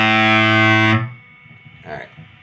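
A Swollen Pickle MKII fuzz pedal plays a loud, sustained, heavily distorted guitar note with dense buzzing harmonics for about a second, then cuts off abruptly, leaving low hiss and a faint brief noise.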